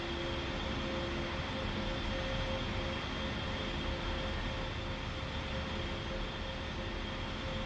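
Twin jet engines of an A-10 taxiing in a flight simulator game hold a steady, even whine and rumble with a high tonal hum, unbroken and close throughout.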